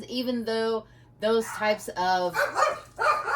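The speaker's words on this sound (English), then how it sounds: "Excuse my dogs. They're barking at absolutely nothing" Several dogs bark indoors, sharp and fairly close, in quick bursts. A person talks over them the whole time.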